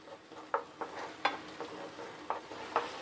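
Tomato paste masala frying in a pan for chicken bukhara gravy, a soft low sizzle punctuated by several light scraping strokes of a spoon at an uneven pace, quiet and close.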